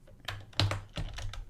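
Computer keyboard keys pressed close by, a few distinct clacks in quick succession as tab and enter are struck while coding a top-down action adventure game.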